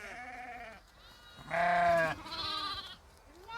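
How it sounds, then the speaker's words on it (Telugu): Several sheep bleat nearby in a flock pen, a few separate wavering calls with short pauses between them, the middle one loudest. "కొన్ని గొర్రెలు అయితే లోపలికి వస్తున్నాయి"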